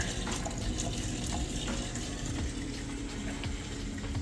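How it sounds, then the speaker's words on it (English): Water gushes steadily and fast through a Kenmore stainless steel dishwasher's drain, a constant rushing wash with faint gurgles and no voices over it. "It's nice to know that drain's running nice and fast."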